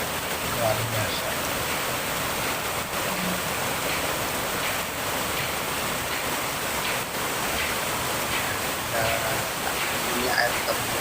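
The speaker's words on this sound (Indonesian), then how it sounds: "Ini air terjunnya" A forest waterfall beside a fast-flowing river near a camping spot by Goa Lawah cave roars with a steady, dense rush of falling water that holds an even level throughout.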